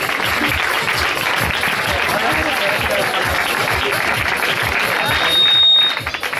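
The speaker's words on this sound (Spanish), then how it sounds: "Un fuerte aplauso por su quinto puesto" Crowd applause at a triathlon awards ceremony in Tíjola rolls on loud and thick for several seconds, many hands clapping together, swelling briefly near the end before easing off.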